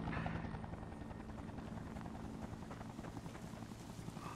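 Steady rotor thrum of a helicopter in the video game Fear The Wolves, a continuous faint whirring drone with no talk over it.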